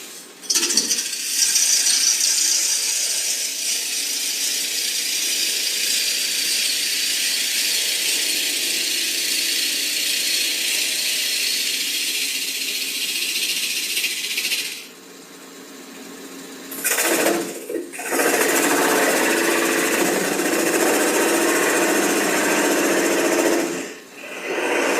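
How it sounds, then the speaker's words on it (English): A wood lathe spins an offset bowl while a tool cuts a regular bowl shape, a loud steady whirring hiss that breaks off briefly twice before resuming, with no talk. "And now we just turn regular bowl shape"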